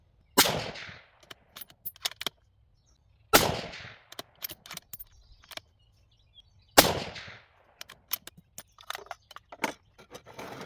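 Three sharp, loud shots from a .308 Winchester rifle firing 175-grain Sierra BTHP M118 LR clone rounds, spaced a few seconds apart, each followed by a decaying echo and faint clicks and handling noises between.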